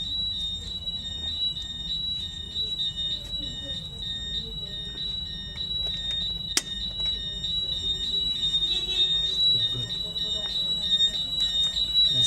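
A Zytec fire alarm sounder, triggered from a manual call point during a system test, emits a continuous, piercing high-pitched tone that holds steady throughout while a person talks underneath.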